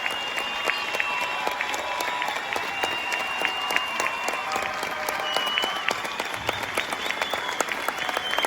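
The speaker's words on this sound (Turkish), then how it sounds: "Çok da alkışlayınız lütfen" An audience at an outdoor stage concert in Turkey applauds the performers with dense, sustained clapping at a steady level, a faint tonal hum running beneath.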